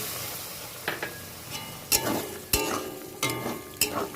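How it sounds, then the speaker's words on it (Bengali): Water poured into an okra and potato curry frying in a pan, giving a hissing sizzle with repeated sharp splashing bursts and stirring scrapes, close and fairly loud. "এবার আমি সবজিতে জল ঢেলে দেব।"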